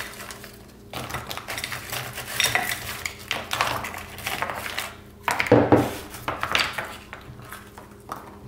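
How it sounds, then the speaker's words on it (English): Freshly opened pearl oysters stirred around in a full bowl, loud clattering shell-on-shell knocks and scrapes in irregular bursts, close up with no talk. "Stir them up a little."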